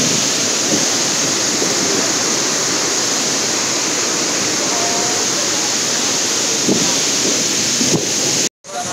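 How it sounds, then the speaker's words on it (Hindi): A large waterfall in full flow on a roadside near Chakrata roars as a loud, steady broadband rush that continues unbroken, cutting out briefly near the end before resuming. "पीछे कितना बड़ा कितना ऑसम वाटरफॉल है फुल फ्लो में"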